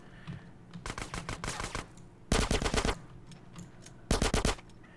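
Automatic gunfire in GTA San Andreas rattles out in three rapid bursts, loud and close, with short pauses between volleys.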